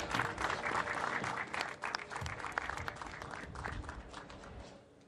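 A crowd at a DSBK national championship race applauds the Saxo Rookie Cup podium winners, steady clapping that rolls on for several seconds at a modest, somewhat distant level before fading out at the end.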